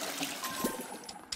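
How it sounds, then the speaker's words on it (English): A toilet flush in the Roblox Bedwars video game, a soft short pour and trickle of water rushing briefly in the background of game audio. "Oh, that was a toilet flush thing."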